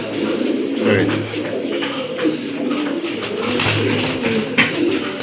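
Iranian high flyer pigeons coo in a pair kept for breeding, low throaty coos repeating under a busy background of wings and bird chatter, close by, with no voices.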